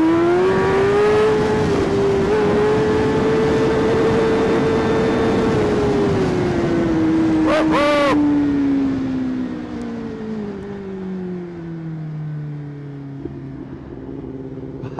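A Suzuki Hayabusa motorcycle engine on the road, a loud steady high-revving drone whose pitch rises, holds and then falls as the bike eases off, with a brief whistling tone partway through.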